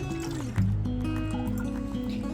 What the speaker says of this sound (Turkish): 1 litre süt koyuyoruz